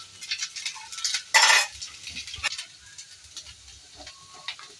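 A spoon scraping and clinking against a pot as rice is mixed into milk for sweet payasam, with a brief louder rattle partway through and soft stirring sounds around it, quiet and close.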